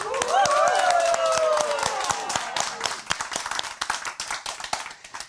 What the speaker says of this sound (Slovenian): Ta publika ploska čemorkoli.